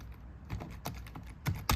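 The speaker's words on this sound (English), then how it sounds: "these keyboards, not only can you type fast, but you get the feedback or noise" A few sharp, close keystrokes on a mechanical gaming keyboard, irregular clicks spaced across a brief moment with quiet gaps between.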